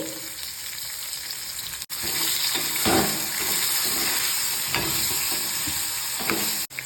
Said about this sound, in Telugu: ఈ మునక్కాడల ముక్కలు వేసుకుందాము కొద్దిగా పసుపు కొద్దిగా ఉప్పు కూడా వేసుకుందాము